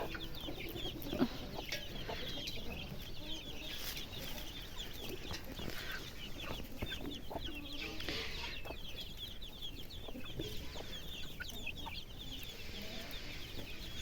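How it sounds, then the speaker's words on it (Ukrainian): Farmyard chickens cluck and murmur continuously at moderate distance, with scattered soft calls over a steady outdoor background. "Це ось курочка, мабуть, буде."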